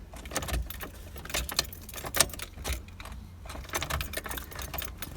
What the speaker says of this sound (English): Ooh, there's the clutch. Ooh, that's a sticky clutch.